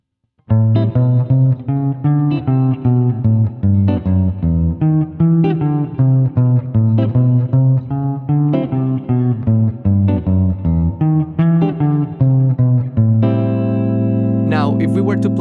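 Walking bass line played on bass guitar: a steady stream of plucked, evenly spaced notes runs for about twelve seconds, loud and close, ending on a single held low note.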